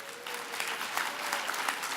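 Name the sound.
audience applause for award winners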